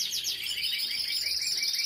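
A ringed pet bird kept at home chirps in rapid, bright repeated notes, close and fairly loud and continuous, with no talk.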